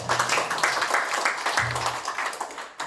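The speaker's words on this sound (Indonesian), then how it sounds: "Berikan tepuk tangan yang meriah." A church congregation claps together in a brief, dense burst of applause, loud and continuous, with faint low musical tones beneath.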